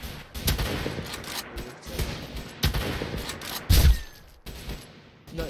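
Gunfire in the Roblox video game comes in repeated sharp bursts and single shots over a busy background of game sound, with a few louder cracks spaced across the moment.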